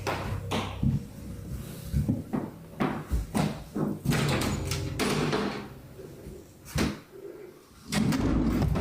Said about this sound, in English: the drawer flew open